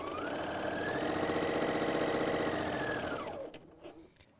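A Bernina L 660 overlock machine runs steadily while sewing a stretchy seam with a four- or three-thread overlock stitch, a loud continuous whir that holds for about three seconds, then stops, leaving a few small handling clicks.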